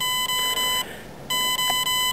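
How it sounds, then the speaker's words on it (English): Electronic speed controller emitting section-mode beeps: steady high-pitched tones that repeat, broken by short gaps and one longer pause before the tone resumes, loud and alone. "So what we now hear are the section mode beeps"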